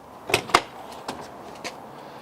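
A side-hinged exterior baggage door on a 2019 Newmar Bay Star 3124 Class A motorhome is unlatched and swung open, giving two quick sharp clicks followed by a few lighter latch and panel knocks, close by and without speech.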